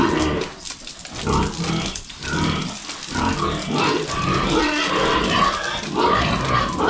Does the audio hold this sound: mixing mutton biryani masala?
no